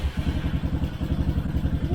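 A 2021 Tao TBR7 dirt bike engine idles close by with a steady, rapid, thumping single-cylinder chug, loud and even throughout with no voices over it.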